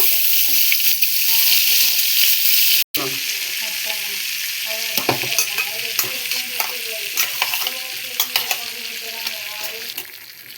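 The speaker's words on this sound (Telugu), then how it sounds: "ఇంక ఇప్పుడైతే ఇంకా చికెన్ పీసెస్ ఒక్కొక్కటి బటర్లో అయితే వేస్తున్నాము" Chicken pieces frying in butter and oil on a tawa give a steady loud sizzle, with intermittent clinks and scrapes as pieces are added one by one and a brief cut near the start.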